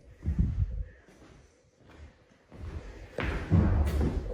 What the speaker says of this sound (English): Did you hear that thump?